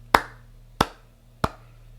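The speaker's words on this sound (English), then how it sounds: "just clapping your hands a few times" Three crisp, loud hand claps, evenly spaced about two-thirds of a second apart, each sharp and close with a quick decay into quiet room tone, used to sync podcast recordings.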